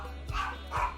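A dog barks twice in a store, two short, fairly close bursts about half a second apart over steady indoor background hum.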